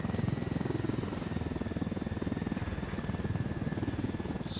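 Helicopter in the video game Ghost Recon Wildlands, heard as a steady rhythmic rotor chop with a constant engine whine, fairly close and continuous throughout with no speech over it.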